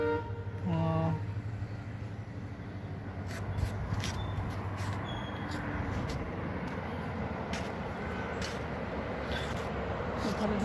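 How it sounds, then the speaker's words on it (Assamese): Train passing near Agninav Shiva temple at Nazira, Sivasagar, a brief horn toot at the start, then a continuous rumbling and clattering of cars rolling by at a moderate distance. "ট্ৰেইন গৈ আছে।"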